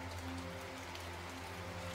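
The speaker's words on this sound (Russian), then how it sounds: "ливень только усиливается с каждым часом" A heavy rain downpour pours down as a dense, unbroken hiss with a low steady hum beneath, constant and even throughout, with no voices.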